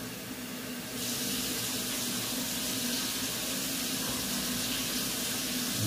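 A strong, steady stream of tap water runs into a pot of stuffed aubergines for Gaziantep dolma, the rushing splash swelling after the first second and then holding loud and close.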